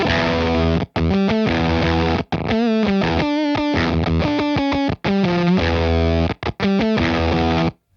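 Heavily distorted electric guitar chords through a JHS 3 Series distortion pedal with bias set high, played in choppy bursts with brief silent gaps, loud and saturated throughout, no voices.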